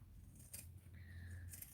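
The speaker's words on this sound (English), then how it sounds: "now I'm going to get my pinking shears and pink around the curves." Zigzag pinking shears snip through fabric with a couple of faint, close metallic clicks and cuts, heard alone over a low steady hum.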